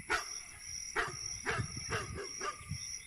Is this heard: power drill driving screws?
no